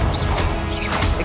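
Confringo blasting spell cast in Hogwarts Legacy, a single loud crashing burst with a sharp whooshing attack, fairly close and alone.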